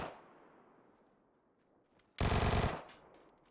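Gunfire in PUBG: a loud burst of rapid automatic shots lasting about half a second cuts in sharply after a decaying earlier shot and quiet stretch, then trails off into a faint echo.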